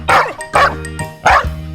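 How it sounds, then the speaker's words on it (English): A farm dog barks three times in quick, loud, close woofs with a short gap between them, alone and without talk. "The dog."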